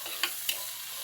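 Tomatoes and onions frying in a pan give a bright, steady sizzle, broken by two quick scraping stir strokes close by, with no voice.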